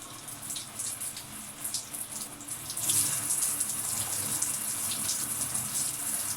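Tap water runs steadily while hair is rinsed out at a sink, a continuous close hiss that grows fuller and louder about halfway through, with no talking.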